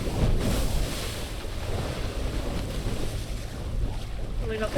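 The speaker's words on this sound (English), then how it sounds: "Pretty windy out there." Strong wind buffets a catamaran at sea in about 20 knots, producing a constant roaring rush with heavy microphone wind noise. Water sloshes against the hulls, and a faint sound of rigging or voices comes in at the end.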